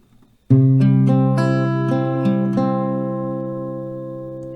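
An acoustic guitar picks out a chord one string at a time, each note ringing on and blending into a sustained, slowly fading chord.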